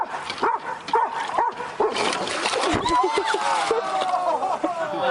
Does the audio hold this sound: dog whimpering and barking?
yes